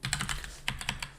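Keystrokes on a computer keyboard, a quick run of about ten crisp clicks in an uneven typing rhythm, close and clear with no talking.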